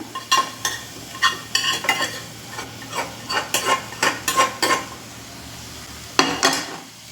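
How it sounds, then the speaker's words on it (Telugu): Stirring in a pan as fried egg is mixed into tomato pulao, with a series of scraping strokes and a light sizzle, clear and close with no talk. "ఈ ఫ్రై కూడా ఇందులో యాడ్ చేసేస్తున్నాను"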